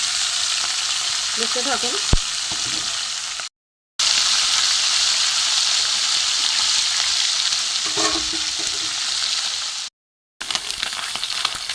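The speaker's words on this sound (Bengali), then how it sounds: "এটা আমি প্রথমে ভেজে নেব।" Small mourola and puti fish fry together in a pan, a steady loud sizzle with occasional stirring clatters, briefly broken by short gaps, while a voice speaks a few words once.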